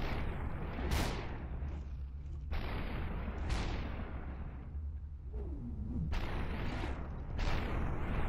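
Enemies firing guns at the player in the game SUPERHOT: a few loud, widely spaced booming shots, each trailing into a swelling noisy whoosh, over a steady low hum.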